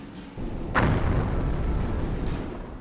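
An artillery strike lands in the World War II strategy game Company of Heroes: a single heavy boom with a sharp crack, followed by a long rumbling decay and low debris noise.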